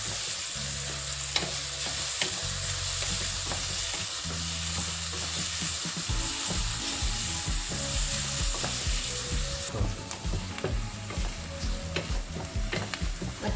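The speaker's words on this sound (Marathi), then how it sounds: "आता हा कांदा मी व्यवस्थित गुलाबी रंगापर्यंत परतून घेणार आहे." Onion fries in hot oil for a Malvani chicken curry, a steady close sizzle with spatula stirring and scraping in the pan, growing brighter and more crackling toward the end.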